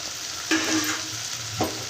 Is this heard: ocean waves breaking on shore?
no